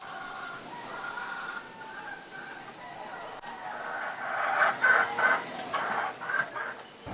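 Many roosters crow and cluck outdoors in the Caribbean, their calls overlapping at moderate distance and swelling into a louder burst near the end, with some faint background noise.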